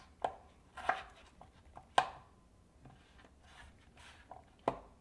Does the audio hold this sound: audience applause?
no